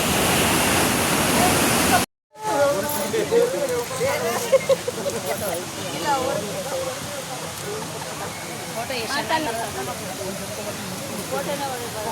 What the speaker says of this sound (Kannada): ಪಕ್ಕದಲ್ಲೇ ಹರಿತಿರೋ ನದಿ